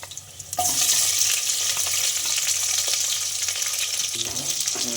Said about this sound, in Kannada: ಈರುಳ್ಳಿ ಹಾಕ್ಕಂತೀವಿ ಈ ಥರ ಫ್ರೈ ಮಾಡ್ತೀವಿ